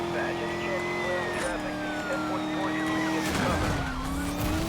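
A Mercedes-Benz SL 65 AMG in Need for Speed: Most Wanted accelerates along a race course, a steady engine drone with a rising whine running under game music and occasional voices.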